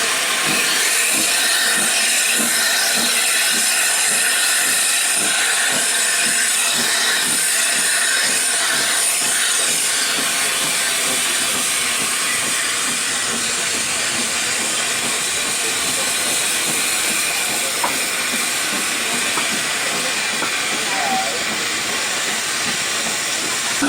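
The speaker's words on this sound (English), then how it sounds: "We rejoin our train and continue on to Norchard, the main hub of the Dean Forest Railway." A Dean Forest Railway steam train runs steadily near Lydney, a loud continuous hiss of steam with a rumbling, rhythmic rail clatter beneath it throughout.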